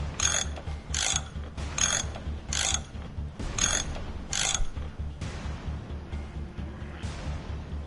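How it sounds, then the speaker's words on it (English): A wrench undoing a mechanism in the video game Dying: Reborn, six loud rhythmic metallic ratcheting clanks about half a second apart over a low hum, then a fading mechanical rumble. "And whilst it's blocked, we can use the wrench"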